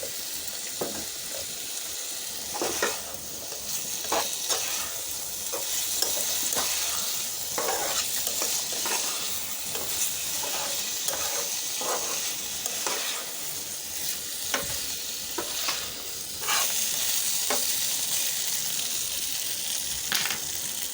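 Fried potatoes and papaya stirred into spice paste in a hot pan, a continuous close sizzle broken by repeated scraping strokes of the spoon throughout.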